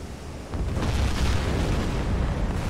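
Deep, rumbling torpedo explosions striking ships in Silent Hunter 3 with the GWX mod, heard from a U-boat, a sudden low boom swelling into a sustained roar that lingers to the end.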